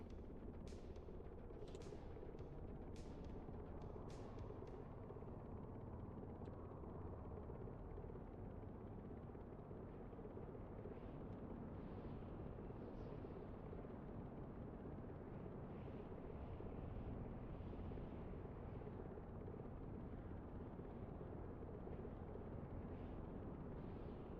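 A video game aircraft engine running at flight idle, a steady loud broadband roar that holds constant throughout, with a few sharp clicks near the start and no talking.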